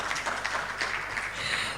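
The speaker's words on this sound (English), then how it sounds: "I thought the applause would be a bit warmer" Thin, faint applause from a summit audience on climate, conflict and fragility in Nigeria, a scattered patter of claps that stays steady and subdued for under two seconds.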